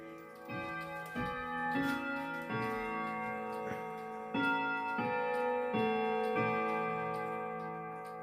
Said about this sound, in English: this is the movement inside the Victoria Arad desk clock